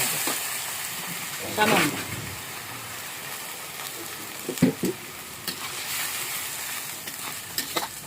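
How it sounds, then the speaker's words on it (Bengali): Coconut paste with spices fries in a pan with a splash of water, giving a steady soft sizzle punctuated by scraping stir strokes; a voice speaks briefly over it. "নারকেল বাটাটা সব একসাথে ভাজতে থাকবে।"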